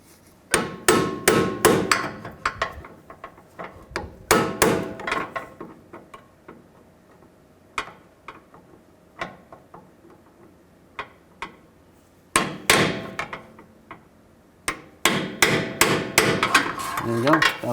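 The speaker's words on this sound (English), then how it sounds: "I'm just going to use a long pry bar and just try to access it from underneath and just peen it over" Sharp metallic hammer blows ring out as a long pry bar is struck to peen over the washer tabs on an inner tie rod of a 2007-11 Honda CR-V, coming in rapid close bursts separated by pauses and a few lone hits.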